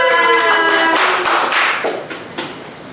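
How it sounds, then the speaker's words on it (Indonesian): Third-grade primary school pupils clap together in a classroom for a group, a brief loud burst of rhythmic claps with some tonal chatter or a voice mixed in early on. "Tepuk tangan untuk kelompok 2."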